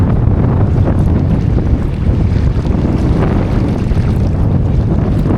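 Strong hot wind at Elafonisi beach, Crete, roars steadily across the microphone, a loud, continuous buffeting rush with no voices.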